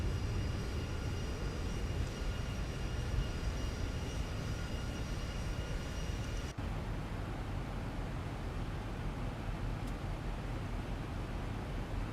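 Airliner engines drone steadily as a Zibo mod 737 taxis before takeoff at Bristol in a flight simulator. The hum is constant and moderately quiet, with faint whining tones on top and no talking.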